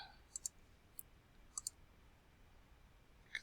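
A few faint, sharp computer mouse clicks sound in CAD software, some in quick pairs, over a quiet room hum.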